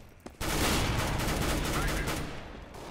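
Gunfire in Counter-Strike: Global Offensive, a loud, sustained burst of rapid shots that starts abruptly and rattles on for a couple of seconds before tapering slightly.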